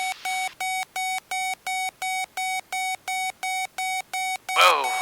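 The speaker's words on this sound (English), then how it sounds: "You're gonna hear beep." An airplane's autopilot disconnect warning sounds as a steady run of about fourteen evenly spaced, clear electronic beeps, loud and close in the cockpit, with a brief voice at the very end.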